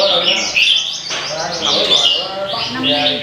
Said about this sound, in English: How many different kinds of birds do you have around here in this cafe?